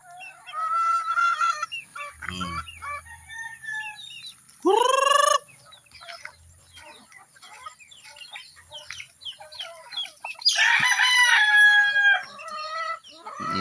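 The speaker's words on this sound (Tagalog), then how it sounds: "Ayan yung ating mga manok na manok." Hens cluck and chatter in short bursts while roosters crow loudly, one near and one later, amid a lively outdoor farmyard.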